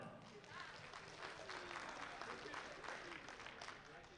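An audience at a USA Powerlifting Open Nationals meet applauds a side referee being introduced, a moderate wash of clapping from a crowd that swells and then eases off, with an announcer's voice faintly mixed in.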